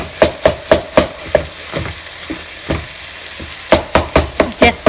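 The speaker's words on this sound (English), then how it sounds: "Mix it and mash it up." A utensil repeatedly mashing and mixing chicken keema in a pan, a steady series of sharp knocks and scraping thuds, close and loud, pausing briefly midway before a quick final flurry.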